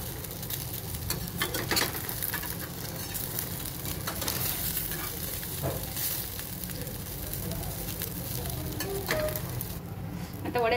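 Jowar flour vadis frying in a pan over a low flame, a steady sizzle with scraping and stirring clatters as pieces are turned, fairly close and alone without talk.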